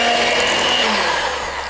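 Electric mixer beating flour into a thick gooey butter cake batter, a steady loud motor whir with a droning hum throughout, no talking over it.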